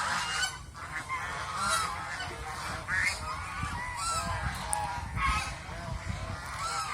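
Domestic geese on a small farm honk repeatedly in a flock, overlapping calls near and loud over steady background noise, with no talking.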